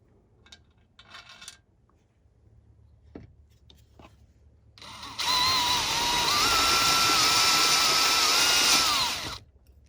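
A power drill fitted with a 1/4 inch bit bores into soft metal on a travel-trailer bed frame hinge, a loud, steady whine lasting about four seconds after a few quiet clicks and taps.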